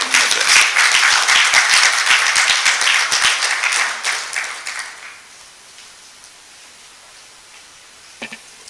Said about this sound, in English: Please give a round of applause for Professor Jonathan Babalola